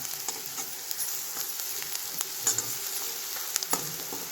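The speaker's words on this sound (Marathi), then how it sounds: "लाल मिरची पावडर चटणी ॲड केली आणि हळद पावडर हे चांगलं भाजून घ्यायचं" Salt, red chili powder and turmeric roast in a hot pan for a simple vegetable dish, giving a steady soft sizzle with light stirring scrapes and a few small pops, close and alone.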